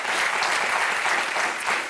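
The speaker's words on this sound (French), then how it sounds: "Vous pouvez l'applaudir aussi" A TV studio audience claps in a dense, even burst of applause that holds steady at full strength for the whole two seconds.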